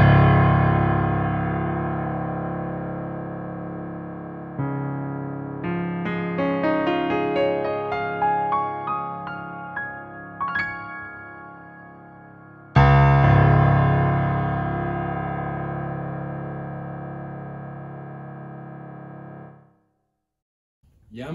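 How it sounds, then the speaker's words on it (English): A Yamaha Clavinova CVP-809 digital piano plays its sampled Yamaha CFX concert grand voice. Full sustained chords give way to a quicker rising run of notes, then a loud chord rings and fades before a brief silence and a final attack. "you get the sound of that CFX concert grand"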